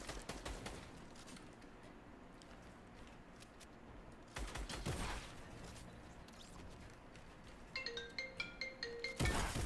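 A mobile phone rings during a Fortnite gaming session, its repeating melodic tone emerging near the end over busy game noise, clicks and bursts of gunfire.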